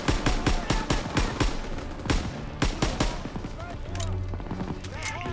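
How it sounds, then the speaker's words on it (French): Machine gun fire rattles in rapid, loud bursts in Call of Duty WWII, with other shots and battle noise around it and a voice breaking in near the end. "Visez ces saloperies de mitrailleuses"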